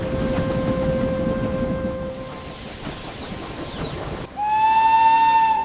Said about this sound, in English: Every whistle of this historic train echoes the timeless charm of the Nilgiris